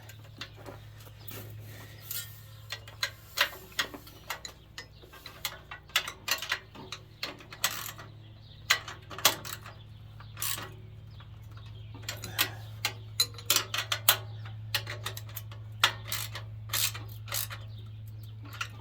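A ratchet tightening bolts on an Earthquake Victory tiller, with irregular bursts of sharp clicking over a low steady hum, close and fairly faint, with scattered taps of metal between bursts and no voices.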